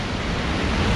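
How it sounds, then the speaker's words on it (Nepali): A swollen, flooded river surges past in a loud, steady roar of rushing water, heard close up for a brief moment. "हेर्नु न बब्बाल आएको पानी"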